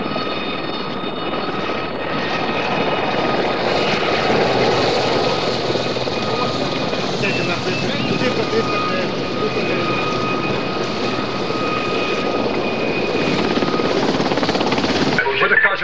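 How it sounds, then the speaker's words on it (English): A mountain rescue helicopter on Ben Nevis flies close by, its loud, steady rotor and engine roar filling the scene without a break. A voice speaks faintly beneath the din. "would the helicopter make its way to the West End car park?"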